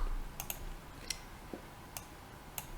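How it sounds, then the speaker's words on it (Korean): A handful of soft, dry computer mouse clicks come at irregular intervals over a quiet background hum while working in Autodesk Inventor. "그럼 위쪽에 있는 열기 버튼 클릭하여"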